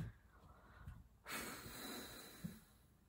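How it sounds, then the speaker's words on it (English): Close, heavy breathing with a few short snorts from a dog, the breaths rising and falling in a steady rough rhythm. "You hear this dog?"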